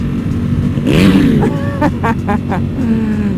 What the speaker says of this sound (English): My exhaust isn't loud enough.